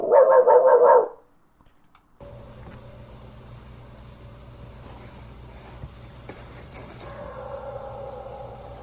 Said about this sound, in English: Sounds like a dog howling, maybe near a cave or something